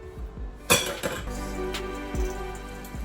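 Knife cutting into a hot baked spaghetti squash dish, a sharp clink of utensil on plate followed by softer scraping and a few light taps, close and fairly quiet.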